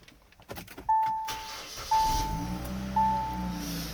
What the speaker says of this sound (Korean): 먼저 시동부터 걸어 보도록 하겠습니다